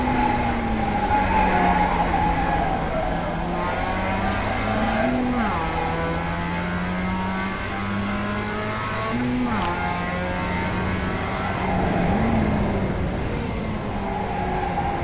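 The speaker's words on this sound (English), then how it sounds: "In all the corners, the tires are squealing pretty loud." Race car tires squeal through the corners of a track during a club race, the high screech rising and falling over a steady, loud engine drone, with commentary over the top.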